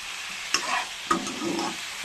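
Vegetables being stirred with a spatula in a pan while cooking with khar, a soft steady sizzle with two distinct scraping strokes, close and quiet with no speech.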